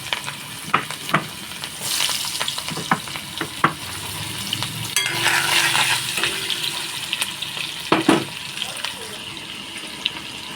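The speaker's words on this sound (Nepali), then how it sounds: "टक्कसँगले प्याज हाल्छु।" Chopped onions sizzle steadily in hot oil for a Burnai fish gravy, a continuous hiss broken by sharp clinks and scrapes of a utensil against the pan, close and fairly loud throughout.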